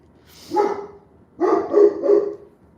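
A big female dog barks in a short burst: one loud bark, a pause, then three quick deep barks close by, with no talk over them.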